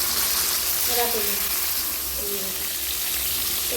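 Paneer pieces frying in white oil in a wok give a constant close hiss and sizzle, with faint bubbling underneath.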